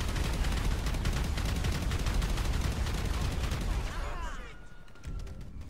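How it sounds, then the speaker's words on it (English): Police gunfire in GTA V comes as a rapid, loud barrage of overlapping shots that thins out and fades near the end. "the police shot the sticky grenade before I threw it"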